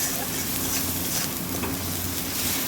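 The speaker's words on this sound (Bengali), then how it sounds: "সামান্য একটু লঙ্কা গুঁড়ো অ্যাড করলাম। ভালো করে মশলাটা কষিয়ে নেব" A spice paste with chili powder is stir-fried in hot oil, making a dense, continuous sizzle close up, with the stirring adding a constant rough texture and no speech.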